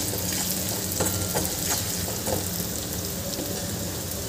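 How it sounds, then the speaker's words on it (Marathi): Raw papaya with spices and salt sautés in a pan, giving a steady, close, dense sizzle and crackle that runs unbroken with faint stirring ticks and no voices. "हे 1 मिनिट आपल्याला छान परतून घ्यायचं आहे."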